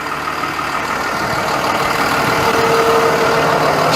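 A conventional school bus engine idles steadily during a pre-trip inspection, a continuous mid-frequency drone with a faint whine, holding an even, fairly loud level throughout with no talking.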